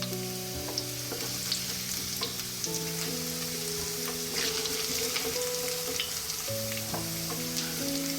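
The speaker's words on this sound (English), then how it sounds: "Then we'll use the same oil for sauteing" Oil sizzling steadily while sauteing for Filipino-style pork rib kaldereta, a constant close frying hiss with small crackles and a low background hum, no speech.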